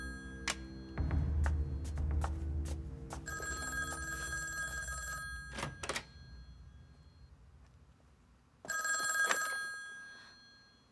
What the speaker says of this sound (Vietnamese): Ai cũng ngủ như chết, không ai nghe điện thoại sao?